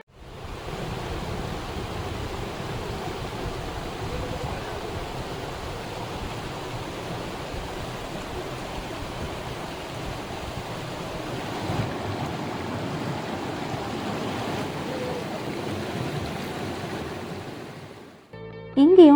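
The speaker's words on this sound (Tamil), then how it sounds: "அங்கே ஒரு சின்னதாக ஒரு ரிவர் ஓடிட்டு இருந்துச்சு." Small river flowing near Ooty after rain, a steady broadband rush of water holding evenly for most of the stretch before cutting off near the end.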